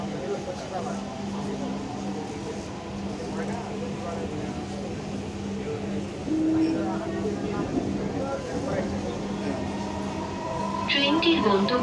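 A metro train in Dhaka bound for Motijhil runs with a steady low rumble and hum from inside the carriage, while spoken announcements play over it throughout.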